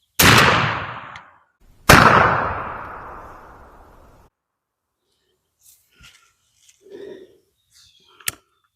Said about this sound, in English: We're going to be shooting the 12-inch bullseye target like usual.